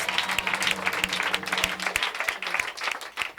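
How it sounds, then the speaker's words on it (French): Church congregation clapping in praise at an evangelistic service, dense ragged applause from many hands, close and lively, with faint voices underneath. "Clap of praise"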